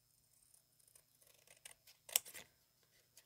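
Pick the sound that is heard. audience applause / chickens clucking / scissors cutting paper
scissors cutting paper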